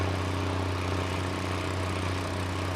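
A 150 horsepower tractor engine in Farming Simulator 19 drones steadily at a low idle-like hum, constant and moderately quiet with no talking.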